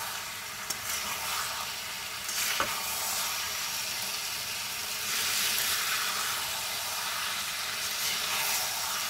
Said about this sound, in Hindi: फ्राई कर लेते हैं।